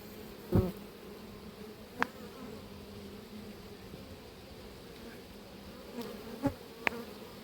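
Honeybees at an open hive in an apiary during swarming season give a steady, faint, low buzzing drone, broken by a few brief soft knocks.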